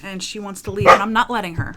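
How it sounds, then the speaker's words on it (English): A pet dog barks and yips repeatedly at close range in a room, the bursts overlapping a woman's continuous speech. "that is my dog barking at me"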